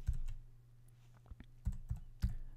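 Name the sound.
typing code on a computer keyboard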